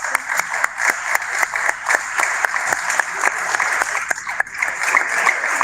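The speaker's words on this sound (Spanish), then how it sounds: "queremos agradecerte un poco a través de este aplauso" Appreciative audience applause after a conference talk on mental health, a sustained wash of many hands with a few sharper nearby claps standing out, steady and moderately loud with no talking.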